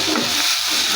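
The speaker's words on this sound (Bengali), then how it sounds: "এখানে আমি আদা রসুন দিয়ে দিচ্ছি। এখন এই যে ফুটতে মশলা, লবণ দিয়ে দিচ্ছি সাথে" Ginger, garlic and spices fry in a pan with a steady, close hiss that fills the whole brief moment.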